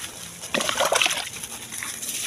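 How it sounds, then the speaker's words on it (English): Water is splashed and poured over a heap of farm waste being prepared as organic fertilizer, a short burst of wet sloshing and splattering up close that fades to a low trickle. "You wet it with water. Put water very well."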